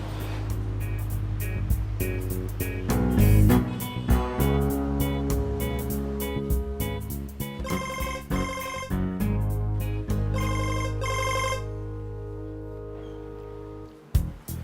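A phone ringtone repeats steadily for several seconds as a call is placed in an Indonesian drama scene, loud and close, ending abruptly before a brief bump.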